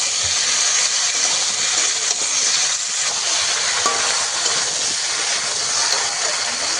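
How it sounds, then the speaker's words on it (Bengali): Raw green banana pieces frying with salt in a pan give a steady, dense sizzle that stays even and close throughout, with faint stirring scrapes now and then and no voices. "লবণটা দিয়ে ভালোভাবে একটু কলাগুলোকে বেশি করে কষিয়ে নেব"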